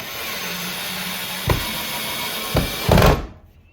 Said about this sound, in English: Okay, so we're just screwing in our brackets first.